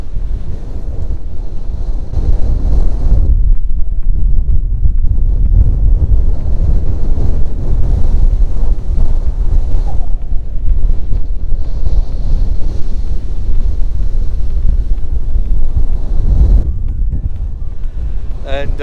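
Strong wind buffeting the microphone on a Dartmoor hilltop, a loud roaring rumble that gusts and eases, with people talking underneath it.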